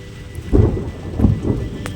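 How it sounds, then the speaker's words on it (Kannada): Thunder rolls in low, deep bursts during a first monsoon rain, two swells of rumble over a background patter of rainfall, close and fairly loud. "ನೋಡಿ ಹೆಂಗೆ ಗುಡುಗ್ತಾ ಇದೆ."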